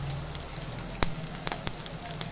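Mustard seeds and asafoetida sizzling in hot oil for a quick cabbage stir-fry, a steady loud crackle with sharp seed pops scattered throughout.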